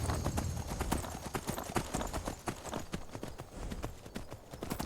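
Horse hooves clip-clop in Skyrim, a rapid steady run of close, loud hoofbeats over a rough ambient bed, with no pause.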